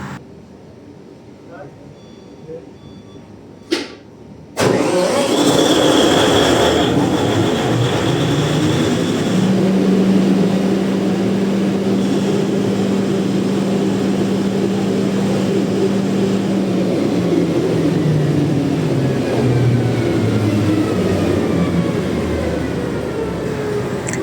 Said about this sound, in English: So this is the first attempt to start the generator.